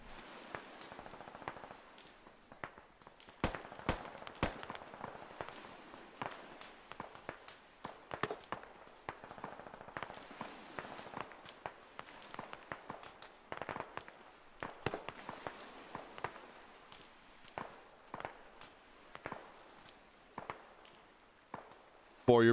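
In the military video game Squad, a 155 mm artillery smoke barrage lands as a scattered series of distant, muffled thumps and cracks, with irregular impacts and radio chatter over the top.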